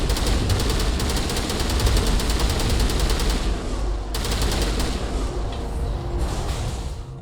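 Sustained automatic weapon fire in a Mass Effect video game firefight, rapid dense bursts loud and close, briefly pausing before resuming, with no speech over it.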